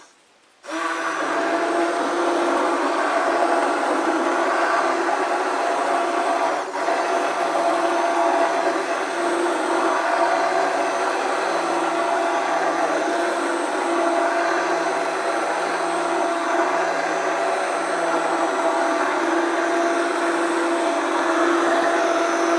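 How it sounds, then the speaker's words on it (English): A stick blender whirs continuously while mixing hot process soap over heat, starting abruptly after a short quiet moment and running as a loud, steady motor drone to the end. "We are going to use a stick blender, though, and we're going to keep some heat on underneath."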